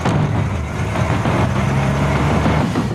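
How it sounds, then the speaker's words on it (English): Dense, loud rumble of several truck engines idling and moving as the trucks pull up beside one another in a film heist scene, with a heavy low drone throughout and no speech. "all these trucks are pulling up next to each other"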